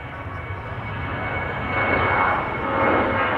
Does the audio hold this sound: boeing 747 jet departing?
yes